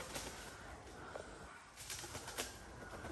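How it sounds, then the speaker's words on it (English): A pigeon or dove coos faintly outdoors near trees, soft low calls with a brief flutter of wings against quiet background hiss. "It's a bird making that noise."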